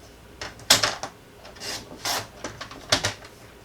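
Cardstock is cut down to size on a paper trimmer, a series of short scraping, rasping strokes, about five quick bursts close by with brief gaps between them.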